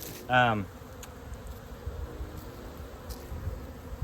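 Honeybees at a hive in early spring make a steady low hum close by, with one brief louder buzzing pass near the start.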